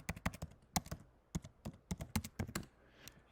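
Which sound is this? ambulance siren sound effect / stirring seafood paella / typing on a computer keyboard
typing on a computer keyboard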